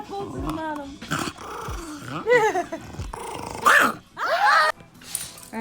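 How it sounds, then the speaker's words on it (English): A dog growls and makes short grumbling vocal sounds close by, in a few uneven bursts, while a person talks affectionately to it. "Oh, this dog is here."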